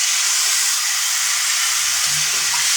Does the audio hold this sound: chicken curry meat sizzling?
yes